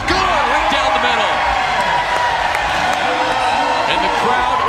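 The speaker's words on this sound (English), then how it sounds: "And the crowd loves it here in Milwaukee." Crowd cheering at a cornhole championship in Milwaukee, a broad, loud roar of voices that holds steady throughout with scattered whoops rising above it.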